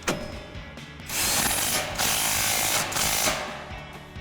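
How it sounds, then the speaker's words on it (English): An impact wrench with an 18mm socket tightens the front strut bolts on a 2005-2010 Mustang during a C&L CX2 strut install. It sounds close and loud in three bursts of rapid hammering, two long and one short. "now we're gonna grab our impact with our 18mm socket and tighten them down."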